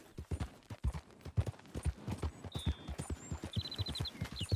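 Horse hooves clip-clopping in Red Dead Redemption 2, a steady close walking rhythm of hoof strikes with occasional faint bird chirps in the background.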